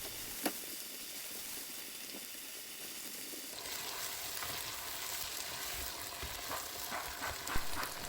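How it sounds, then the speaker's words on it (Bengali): Ground roasted cumin and ginger garlic paste frying in a pan for pulao, a loud steady sizzle with occasional stirring scrapes, no voices. "এবারে আরও কিছুক্ষণ ভেজে নিব।"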